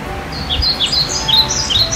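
Several short, high bird chirps repeat in quick succession over a steady background hiss, fairly close and clear, with no speech.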